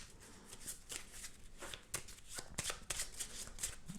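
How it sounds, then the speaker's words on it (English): A deck of playing cards is shuffled during a solo flower-shop card game, giving a steady run of close, crisp riffling and flapping bursts that repeat throughout with no talk. "deck is shuffled"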